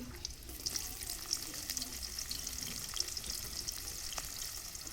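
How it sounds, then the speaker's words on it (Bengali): Onions frying in a kadai after potatoes were cooked in it, for Bengali mutton kosha, with a moderate continuous sizzle and light scraping and stirring noises throughout, alone. "এবারে একই কড়াইতে আমি পেঁয়াজ দিয়ে দিচ্ছি।"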